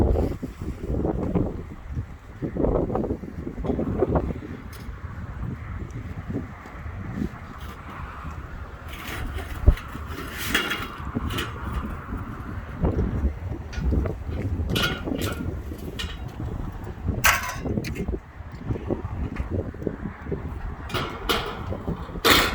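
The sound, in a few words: strong wind blowing at a house construction site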